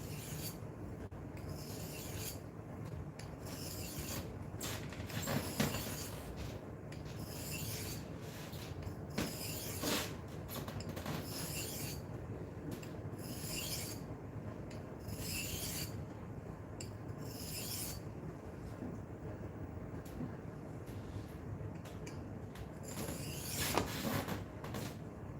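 A steel blade's bevel rasps back and forth on a wet 400-grit sharpening stone in steady, continuous close strokes, with a few louder scrapes along the way and no talking.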